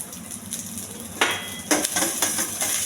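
Chana dal, cumin, dried red chilies and curry leaves sizzle steadily in a hot pan, with a spoon scraping and clinking against the metal in a few sharp bursts as the tempering is stirred to keep it from sticking.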